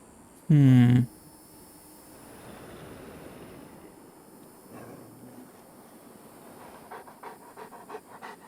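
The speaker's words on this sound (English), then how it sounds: "I can certainly hear a dog here somewhere" A dog panting in Wasteland 2, a short, loud burst of quick breaths near the start, then only a faint, quiet ambient hiss with a few soft taps.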